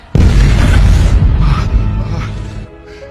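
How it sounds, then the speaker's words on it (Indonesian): A loud, close bomb blast from a film scene booms out with a deep rumble, then trails off into settling debris and a fading roar, with no speech over it. "Berita tersebut justru memperlihatkan Liza yang sedang disandra dengan beberapa bom di tubuhnya. Kemudian diledakkan hingga tewas saat itu juga"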